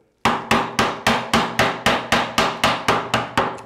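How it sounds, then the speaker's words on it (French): Hammer blows driving a chisel into hard wood while cutting a half-lap joint, about thirteen sharp, evenly spaced strikes, each ringing briefly before the next, loud and close with no talk. "Vous pouvez l'entendre à la frappe que le bois est dur"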